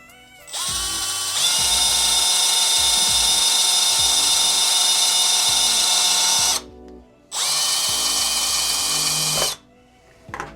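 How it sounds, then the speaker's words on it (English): A high-pitched drill whines steadily for several seconds, stops briefly, then runs again before cutting off, close and loud, drilling a hole through a plastic toy beside its circuit board. "I'm just gonna drill my hole kind of to the side of the circuit board right here"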